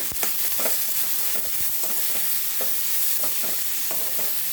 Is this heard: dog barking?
no